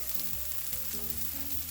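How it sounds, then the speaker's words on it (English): Green onions frying in a pan, a soft, steady sizzle for a couple of seconds with no talk. "I'm going to cook this until these green onions have just wilted"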